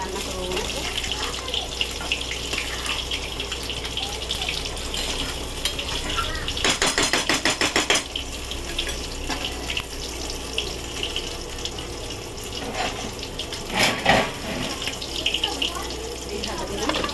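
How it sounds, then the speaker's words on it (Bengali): Water pours into a cooking pot of prawns in a short splashing gush, surrounded by clinking of utensils against the pot and background kitchen noise. "জল দিয়ে দিলাম।"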